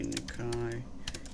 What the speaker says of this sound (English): So I'm just typing, I'm talking out loud as I do.